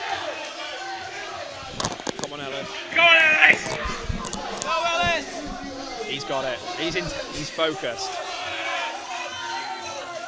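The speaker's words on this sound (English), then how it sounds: "And you can hear the crowd behind me." Crowd at a deadlift competition, BCE Clash 2025, cheering and shouting for a lifter, bursts of voices rising over steady chatter, with a commentator talking close up throughout.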